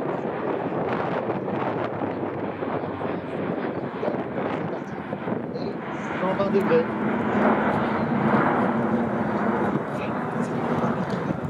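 An Airbus A400M military transport aircraft flying a demonstration at Alpe d'Huez, a broad rumbling roar swelling through the middle under wind buffeting on the microphone, with a voice talking over it.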